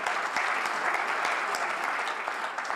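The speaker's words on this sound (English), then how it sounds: "Can we give a round of applause for him?" Audience applauding at a medical professionals' conference in Kenya, a steady dense wash of clapping from a full room that holds for the whole stretch with no pauses.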